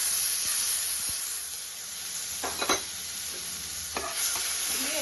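Ginger paste and mustard paste hitting hot oil over tempered spices and bay leaves, giving a constant sizzling hiss broken by a few sharper spits and stirring scrapes, close and fairly loud with no talking.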